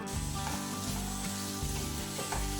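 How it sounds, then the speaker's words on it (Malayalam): Potato fry (aloo fry) sizzles loudly in a pan as it is stirred, a dense continuous frying hiss broken by a few rhythmic scraping strokes, with no voices. "ആദ്യം അടച്ച് വെച്ചിട്ട് ഒരു 2-3 മിനിറ്റിന് ശേഷം ഒന്ന് തുറന്നിട്ട് ഇളക്കി കൊടുക്കുക."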